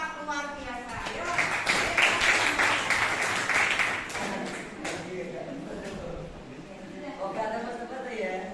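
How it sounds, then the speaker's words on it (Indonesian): A classroom of students claps for group 4 after their presentation, a dense wash of applause swelling for a few seconds and then tapering into scattered claps while voices talk over it. "Kita beri aplaus untuk kelompok 4 luar biasa"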